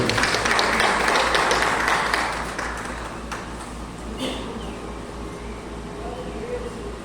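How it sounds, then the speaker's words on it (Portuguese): A church congregation claps hands, loud and dense at first, then thinning and fading after a couple of seconds into a quieter room tone. "você louve a Deus com palmas também"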